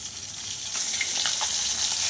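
Fish pieces fry in a pan, giving a bright, steady close sizzle that grows slightly louder partway through, with faint crackles and no speech.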